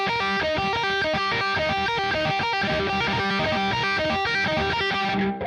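An electric guitar plays a fast repeating arpeggio without proper string muting, the notes ringing into each other in a busy, sustained wash, loud and continuous with no talking.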